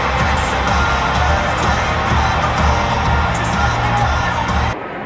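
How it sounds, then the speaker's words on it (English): Artificial crowd noise piped into the Amway Center during a 2021 Orlando Magic basketball game: a loud, continuous roar of cheering and shouting that fills the arena and drops off abruptly near the end. "they're pumping in crowd noise"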